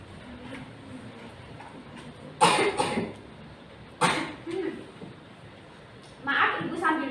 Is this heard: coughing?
yes